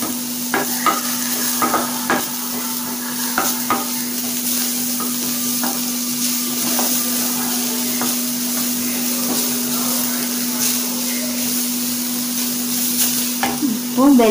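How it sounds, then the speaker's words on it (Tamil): Shredded cabbage and carrot are stir-fried in a pan, with a steady sizzle under repeated scraping and clinking strokes of a spatula, close and continuous, with a constant hum in the background. "லைட்டாக முட்டைக்கோஸ் வதக்கினதுக்கு அப்புறம் கேரட்டை"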